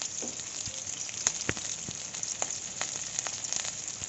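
Onions frying in hot oil, a steady close sizzle with scattered crackles and pops over a few seconds, no voices.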